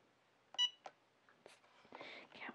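A Cricut EasyPress 2 heat press gives a short, bright electronic beep as its button is pressed, followed by a second softer blip. Faint handling and rustling sounds come after it in a quiet room.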